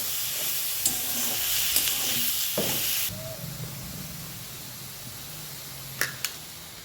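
Green tomatoes roasting in oil with cumin in a pan, a steady close sizzle with scraping stir sounds, loud at first and then quieter, with a few sharp clicks later.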